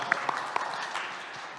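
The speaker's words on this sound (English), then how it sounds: "Let's give some applause to Ali Mahmoud from Tayyab" A startup investor pitch audience claps after a fintech founder's presentation. The sound is a short, moderate burst of scattered hand claps with a few sharper individual claps early on, fading slightly toward the end.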